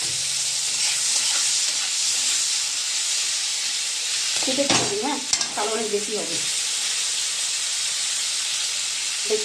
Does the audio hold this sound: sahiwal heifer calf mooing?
no